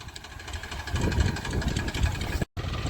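A rough, knocking tractor engine chugs steadily nearby on a farm, its rhythmic low throb continuing with a brief dropout near the end.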